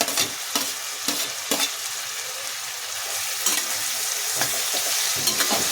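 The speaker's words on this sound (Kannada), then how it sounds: "ಇದು ಸಹ ಚೆನ್ನಾಗಿ ಎಣ್ಣೆಯಲ್ಲಿ ಫ್ರೈ ಆಗಬೇಕು." Eggplant pieces frying in hot oil with tomatoes, a steady loud sizzle with scraping stirs at intervals and no talking.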